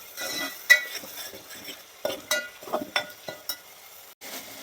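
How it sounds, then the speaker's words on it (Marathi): Onion puree fries in hot oil in a pan, a faint low sizzle beneath a series of sharp spoon scrapes and taps against the pan, close and without voices. "ते चांगल्या पद्धतीने लाल होईपर्यंत भाजून घ्यायची कांद्याची प्युरी आपल्याला."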